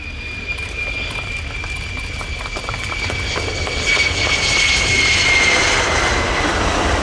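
A Boeing F-15QA fighter jet flies a display at the Royal International Air Tattoo air show, its loud jet engine roar building steadily and swelling as it passes overhead.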